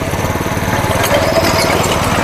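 A chain cultivator's small engine runs in half gear during field weeding and earthing-up work, giving off a loud, steady, close chugging drone with a rapid, rough pulsing rhythm throughout.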